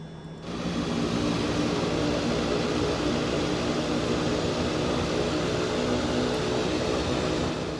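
The engine of a Kodiak aircraft in X-Plane 11 spools up into a loud, steady droning roar that starts abruptly and holds constant, with no voices over it.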